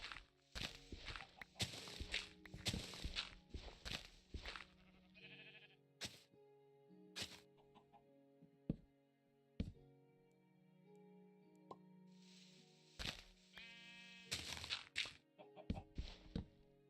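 Sheep in the video game Minecraft bleat in a few short wavering calls mixed with blocky footstep thuds and hits, plus a quiet spoken greeting in the middle.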